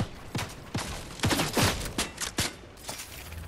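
Scattered gunshots and impacts in the Fortnite video game, several sharp cracks at uneven intervals, moderately loud with no talking over them.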